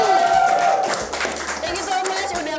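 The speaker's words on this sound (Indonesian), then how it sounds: "Tepuk." A studio audience claps at the close of an Indonesian talk-show interview, a short burst of hands over background music and voices.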